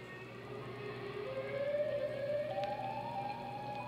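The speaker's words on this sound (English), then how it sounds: "Tornado sirens in Chicago." A distant outdoor tornado warning siren in Chicago wails steadily, its tone slowly climbing in pitch over a faint background hum, with no one speaking.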